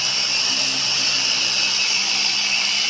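A machine polisher works the paint of a 1995 Viper RT/10, giving a steady, unbroken high whine with a dense hiss that holds at an even level throughout, close and alone with no voices.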